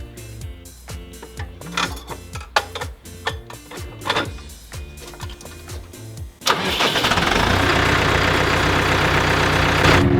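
An agricultural tractor engine cranks with rattling, uneven bursts for several seconds, then catches and settles into a loud, steady running roar close by, with no voices.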